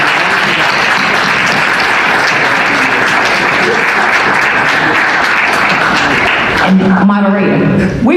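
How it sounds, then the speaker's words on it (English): Sustained applause from an evening candidate forum audience, steady and fairly loud for several seconds before tapering off, with a voice speaking over the end. "let's give a great round of applause to all of our candidates here tonight"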